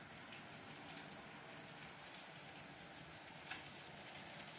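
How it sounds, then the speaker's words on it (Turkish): Steady light rain patters softly on surfaces, a constant fine hiss with no talking. "İnce ince yağmur."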